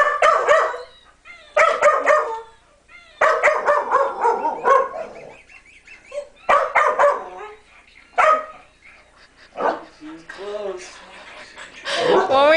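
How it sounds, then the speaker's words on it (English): A pet dog barks indoors in repeated close, loud bursts, with yips and whimpery howl-like sounds between, while people talk around it. "She doesn't howl, she barks."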